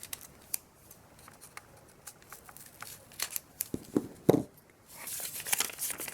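Scissors snip through a folded paper snowflake, cutting a curve into the bottom edge, with a run of crisp close cuts and a louder burst of rustling paper near the end.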